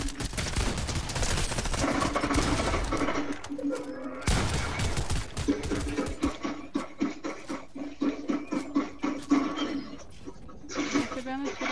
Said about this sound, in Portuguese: Tomando muito tiro. Da grande, ó.